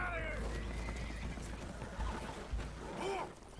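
Spooked horses whinny in Red Dead Redemption 2 aboard a damaged boat taking on water, a few high neighing calls rising over steady low rumble and splashing, with some faint voices mixed in.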